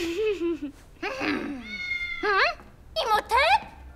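A cartoon cat meows several times in a row, loud and close, with rising and falling drawn-out calls, some overlapping with speech.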